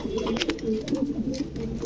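Pigeons of rare fancy breeds coo close by in a loft, with a soft, rolling, repeated burble and faint bird rustling in between.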